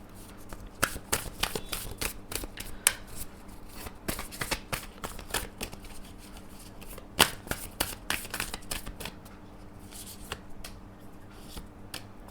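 A Moonology oracle card deck being shuffled, a long run of crisp, close riffling flicks and slaps in an irregular quick rhythm, with no one talking.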